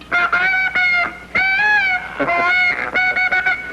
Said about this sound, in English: the great Canadian goose wings its way overhead